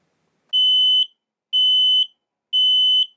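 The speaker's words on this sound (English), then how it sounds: "The test itself will run a full alarm, so it'll be that really, really loud noise." A smoke alarm sounds three loud, shrill test beeps after its test button is pressed, evenly spaced about a second apart, each ringing clearly against silence.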